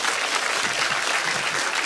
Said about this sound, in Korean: 우리 다 같이 큰 박수와 참부모님 하나님께 박수를 드리면서 감사드립니다